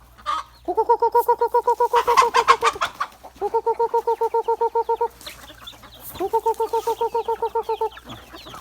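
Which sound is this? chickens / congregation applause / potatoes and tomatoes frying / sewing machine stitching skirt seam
chickens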